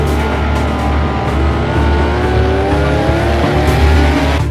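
A Porsche GT1 with a 3.2-litre twin-turbocharged flat-six runs steadily and loud in a sim racing video game. The engine drones continuously throughout with no talking.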